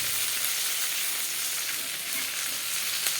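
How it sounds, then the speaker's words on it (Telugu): Drumstick leaves sizzle steadily in a pan of frying onions for a Telugu curry, a dense, even crackle throughout with no voices. "ఒక కప్పు మునగాకు వేస్తున్నాను"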